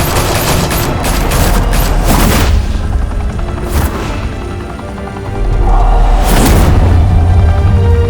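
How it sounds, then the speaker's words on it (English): Gunfire in a Batman: The Telltale Series shootout, loud bursts of automatic shots and booming impacts in several waves that dip briefly before a heavy rumbling barrage returns. "Open fire!"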